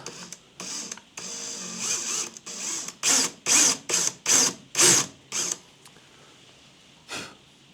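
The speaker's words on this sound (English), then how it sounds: "drill the bloody thing out" A power drill whirs in repeated short bursts while drilling out a bolt, rising to louder, steady pulses before trailing off with one last brief spin.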